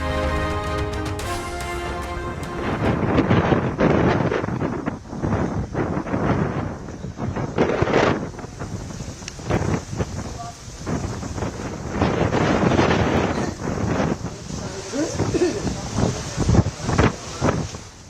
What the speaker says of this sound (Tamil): மோந்தா தீவிர புயல் நெருங்குவதால் கடும் சீற்றத்துடன் காணப்படும் ஆந்திர கடலோர பகுதிகள்.